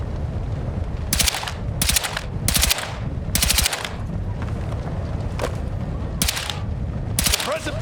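Sustained machine gun suppressive fire in the video game Battlefield 6 during a night raid, loud repeated bursts of automatic shots in short clusters over a rumbling battle background.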